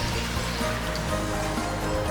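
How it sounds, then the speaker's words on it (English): Hot water pours steadily into a pot over braised pork belly, a soft continuous trickle and splash that stays fairly quiet throughout. "Adding the hot water, just cover the pork belly"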